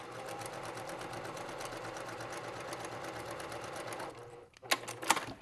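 A sewing machine stitches a quarter-inch seam on a lined zipper pouch using an edge guide: a fast, even, close whirring chatter that stops near the end, followed by a few sharp clicks and handling noises.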